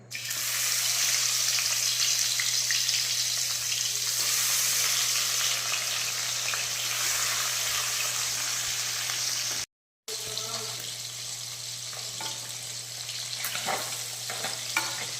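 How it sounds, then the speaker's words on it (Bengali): Bata fish frying in hot oil left over from frying potatoes: a continuous bright sizzle with crackling spatters and a faint steady hum beneath, broken by one brief dropout midway. "আমি মাছগুলো দিয়ে ভালো করে ভেজে নেব।"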